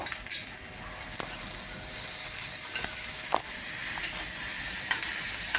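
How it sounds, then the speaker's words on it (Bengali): Steady, close sizzling of onions frying in a hot pan, with ginger paste added, a few faint clicks of stirring through the constant crackle. "পেঁয়াজটা ভাজা হতে হতে আমি এবার দিয়ে দিচ্ছি আদা বাটা 1 টিস্পুন"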